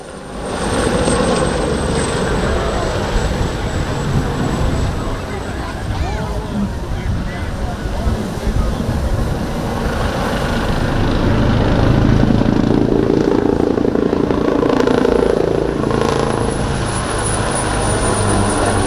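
Helicopters based at Cervia with 15 Wing fly at the Malta International Airshow, a loud, continuous rotor and engine roar that swells and fades over nearly twenty seconds with a high turbine whine on top.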